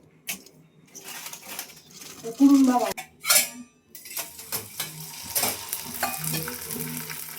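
Dried sandge deep frying in hot oil for fasting popcorn give bursts of crackling sizzle, with clinks of a metal utensil against the pan and rustling stirs, loud and close throughout.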